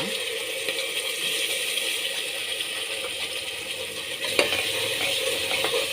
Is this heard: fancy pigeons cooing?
no